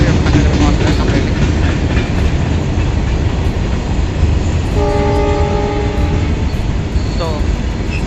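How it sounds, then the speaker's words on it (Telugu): A goods train rushes at heavy speed through Karimnagar railway station at night with a loud continuous rumble and wheel clatter, a horn sounding partway through, and people talking under the noise. "గూడ్స్ ట్రైన్ అవుతుంది, గూడ్స్ ట్రైన్ వెళ్ళిపోతుంది"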